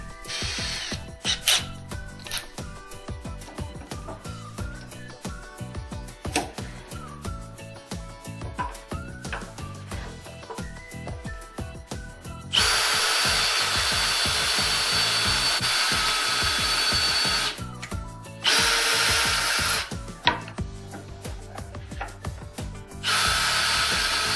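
A power drill drives screws into glued wood pieces while a crosscut sled for woodworking is built. Irregular tapping and handling noises come first, then two sustained, close drill runs whir, with a short break between them.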